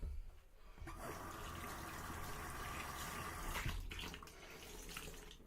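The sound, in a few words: water rinsing after a shave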